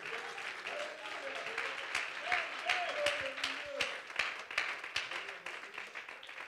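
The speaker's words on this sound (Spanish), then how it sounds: "Puede brindarle un aplauso de mayor amor al Señor" Applause from a church congregation offered to the Lord during a sermon, steady broadband clapping lasting the whole stretch, with a voice rising over it now and then.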